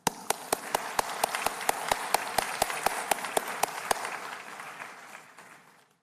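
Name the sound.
audience applause for graduates at convocation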